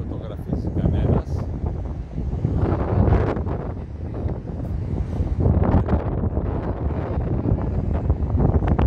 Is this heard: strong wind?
yes